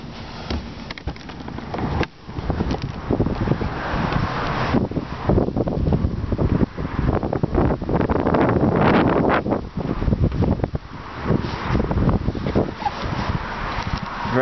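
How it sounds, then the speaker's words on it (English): Heavy outdoor wind buffeting a microphone beside a 2008 Lexus IS 250, loud rumbling gusts that surge and ease over several seconds with no speech. "Very windy out there today."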